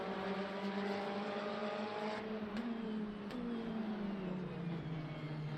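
Race car engines in the Le Mans Ultimate racing game, a continuous loud drone with pitch sliding up and down as cars shift and jostle for position, engine tone rising and falling.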